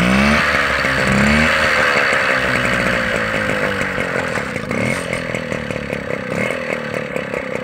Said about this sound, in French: Elle démarre au quart de tour.